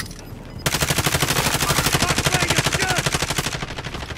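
Sustained automatic gunfire in Call of Duty: Warzone during a trios match: a fast, even stream of close, loud shots rattles steadily for about three seconds after a short quiet lead-in, then cuts off.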